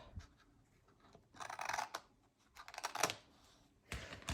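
Printed branding is trimmed off a sheet of paper, probably with scissors, in quiet, close bursts of crisp snipping and paper rustle separated by short pauses.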